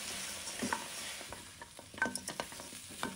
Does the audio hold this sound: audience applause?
no